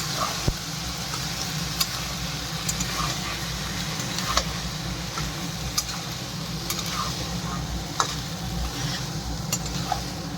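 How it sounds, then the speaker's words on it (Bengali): Chickpeas and potatoes frying with spices in a pan for ghugni, a continuous sizzle with a low background hum and scattered sharp scrapes and clicks from stirring. "ছোলাটা দিয়ে এখন ভালো করে কষাবো আলু দিয়ে ছোলা দিয়ে"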